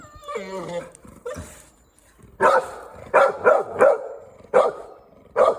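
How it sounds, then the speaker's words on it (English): A dog barks several times in short, separate bursts, close by, after a brief whine at the start. "Stop barking."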